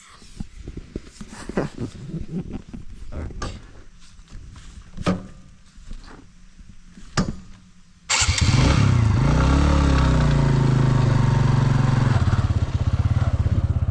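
A few footsteps and thumps lead into a motorcycle engine starting, which then runs loud and close with a steady, strong rumble to the end.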